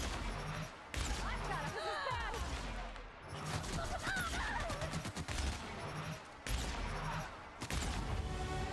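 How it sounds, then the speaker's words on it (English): An enemy firing grenades in The Outer Worlds video game, with loud repeated blasts and a constant busy din of combat, while a player talks over the fighting throughout. "Yo, she is shooting them grenades."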